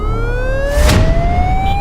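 Ambulance siren wailing in rising sweeps, loud and close, with a whooshing pass of traffic noise mid-clip and steady low vehicle rumble underneath.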